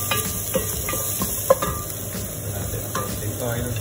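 Garlic sizzles and crackles in hot oil in a pan for pork adobo, a steady frying hiss broken by a few sharp pops and stirring scrapes, close and moderately loud, with no talking.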